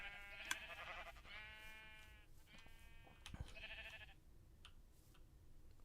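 Sheep on a Minecraft sheep farm bleat in several clear, wavering calls over the first four seconds, one after another and fairly close, followed by quieter game ambience with no talking.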